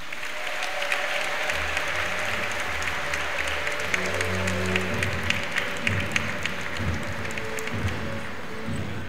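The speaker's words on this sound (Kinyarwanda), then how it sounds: "Ndagira ngo rwose mu ntiza amashyi tumushimire cyane" A church congregation in a parish applauds to thank their priest, a sustained, dense round of clapping from many hands that carries evenly for several seconds with faint crowd murmur beneath.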